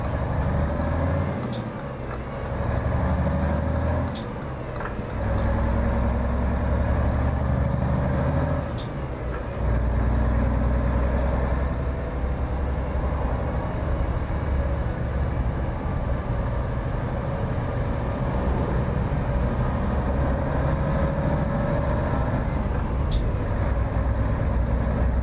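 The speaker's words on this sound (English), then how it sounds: "it is basically the exact same engine that Volvo uses here" A Volvo VNL truck in American Truck Simulator runs with a steady, loud diesel engine drone, broken by several sharp air brake hisses spaced through the stretch.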